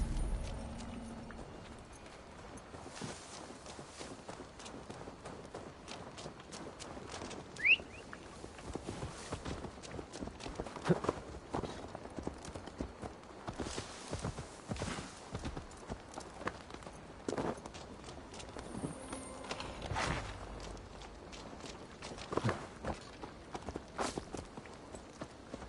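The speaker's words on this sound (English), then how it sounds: "Now to deliver Magni his horse." A horse's hooves clip-clop at a steady walking pace in Assassin's Creed Valhalla on PS5, faint and continuous under quiet game ambience, with no talking.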